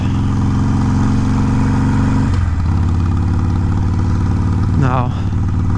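A new 2020 Harley-Davidson Iron 883 being broken in, held under 3,500 RPM, pulls away with a loud, close, throbbing engine note, its pitch dropping at a gear change partway through and rising again as it accelerates.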